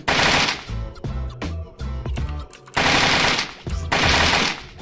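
Rapid automatic gunfire bursts from a shooting video game, loud and close, coming in several long rattling volleys separated by short pauses, with a few single shots between them.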